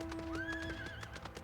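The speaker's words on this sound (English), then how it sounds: "Horsey." Horse hooves clip-clop in the Final Fantasy XIV video game, a quick run of evenly spaced clopping steps under a brief whinny, close and moderately loud, with no talking.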